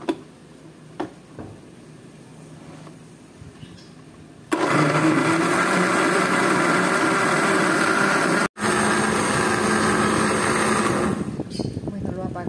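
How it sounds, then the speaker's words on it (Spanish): A blender whirs loudly as it purées onion, cilantro and coconut into coconut milk for a Caribbean catfish dish, a steady roar after a quieter start with light kitchen clatter, broken by one brief dropout. "Un poquito de cebolla, de cilantro. Y lo llevamos a licuar."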